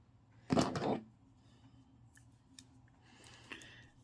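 Scissors snip crochet yarn with a brief, close burst of cutting sounds at the start, followed by a quiet pause and a few faint clicks and rustles.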